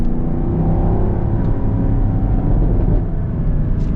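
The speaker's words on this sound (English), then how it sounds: "But we of course got to listen to this V8." A 2023 Chevy Camaro SS V8 with valved exhaust accelerates hard, its loud, steady engine roar and rising revs filling the cabin continuously from start to finish, close and unbroken.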